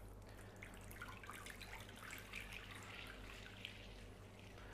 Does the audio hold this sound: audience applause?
no